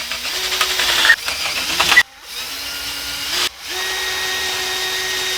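Power drill boring into the body of a Les Paul electric guitar, up close: several bursts of whining motor that rise in pitch as each spins up, broken by abrupt stops and short pauses.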